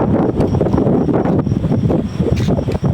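Strong gusts of wind from an approaching typhoon in Taiwan buffet the microphone in a loud, continuous roar with rustling.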